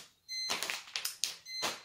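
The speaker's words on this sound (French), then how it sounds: "si vous entendez le bip, c'est la machine à pain" A bread machine beeping: a few short, high electronic beeps, faint and spaced apart in a quiet room.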